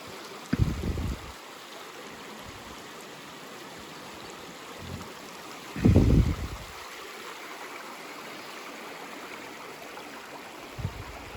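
A creek flows steadily beside a group campsite, a continuous soft rushing of water with a few brief louder splashes or knocks breaking through.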